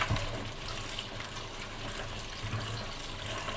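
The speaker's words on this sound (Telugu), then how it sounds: "గోంగూర శుభ్రంగా ఇలా కడుక్కుంటున్నా, ఎందుకంటే ఇసుకి కట్ట ఏదైనా ఉంటే పోతుంది." Gongura leaves are washed under a running tap, a steady splashing flow of water with faint handling noises, close and without talk.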